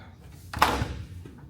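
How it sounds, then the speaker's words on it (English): A hotel room door at Knott's Berry Farm Hotel opens with a single soft clunk and brief rustle midway through, near and short, in a quiet room. "Eventually this door will open."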